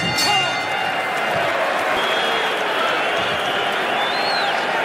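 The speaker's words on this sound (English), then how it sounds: "The crowd is applauding the courage of Steve Zouski as much as they're applauding efforts of Mike Tyson" An arena crowd at the Mike Tyson versus Steve Zouski boxing match applauds and murmurs in a sustained, fairly loud wash with a few scattered calls.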